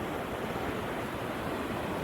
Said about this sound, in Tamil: ஒரு சின்ன ஆறு தான், இருந்தாலும் அந்த தண்ணி சலன்னு போகிறது அவ்வளோ அற்புதமாக இருக்குங்க